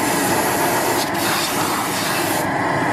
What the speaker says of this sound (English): you don't want to cause condensation with compressed air